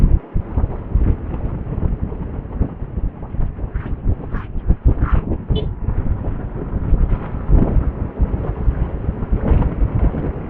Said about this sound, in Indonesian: Tapi anginnya wah lebih pisan, lebih banget anginnya.